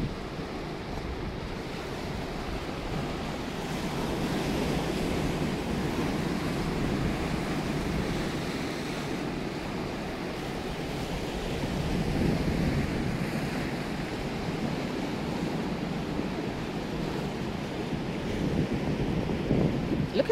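Continuous ocean surf rolling and washing in at the rocky bluffs of Beavertail in Rhode Island, with wind buffeting the microphone; no voices, a steady broad roar that swells slightly at times.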